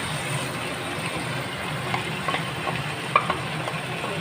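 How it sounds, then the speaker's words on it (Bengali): Marinated chicken fries in a pan with a constant close sizzle, a low hum underneath and a few soft clicks and scrapes of stirring, no talking. "চিকেনটা দিয়ে আমি আর একটু কষিয়ে নেব"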